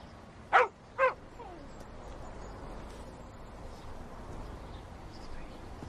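A dog gives two short, sharp barks or yelps close by in a quiet room, followed by a faint low whimper and soft background noise.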